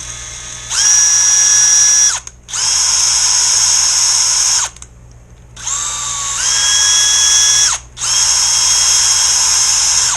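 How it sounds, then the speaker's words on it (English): A power drill whirs up in four bursts, each a high steady whine that cuts off sharply, with short pauses between runs. "to speed up the process, I'm just going to use a drill"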